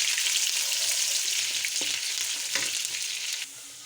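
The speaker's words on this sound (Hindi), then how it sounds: "इसके लिए मैंने लिया है घी। इसमें हम अब प्याज डालेंगे" Onions fry in hot ghee in a pan for a vegetable pulao, giving a steady, dense sizzle throughout with a few soft stirring knocks, then easing slightly near the end; no one speaks.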